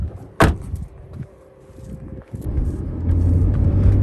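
A car on a road test gives a muffled interior rumble of tyres and engine, with a sharp knock early on, a quieter stretch, then a louder steady hum building as it drives on.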